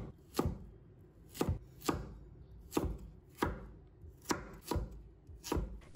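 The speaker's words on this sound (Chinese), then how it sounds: "然后用斜刀切小块" A knife chops taro into small pieces on a board, about ten sharp, evenly spaced close cuts with no other sound.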